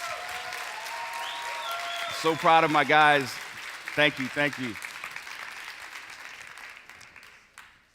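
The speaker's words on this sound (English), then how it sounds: "Can you give these guys a round of applause?" An audience applauds a group of traders asked to stand, a steady wash of clapping from a crowd that runs throughout while someone speaks briefly over it, then tapers off.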